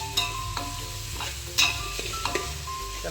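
Garlic ginger paste fries in a pan with a soft, steady sizzle, and a few light scrapes and taps mark the stirring, all quiet and close with no talk.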